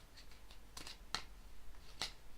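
A tarot deck is shuffled by hand, giving faint, quiet card riffles and a few crisp snapping flicks spaced irregularly.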